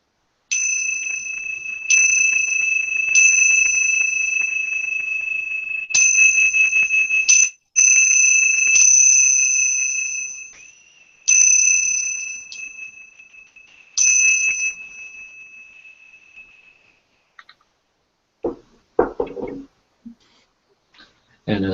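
Chimes struck several times to close a Druid ritual, each bright ringing strike sustaining and fading before the next, a clear repeated series with quiet talk and rustling toward the end.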